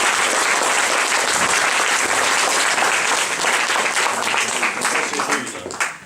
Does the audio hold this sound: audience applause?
yes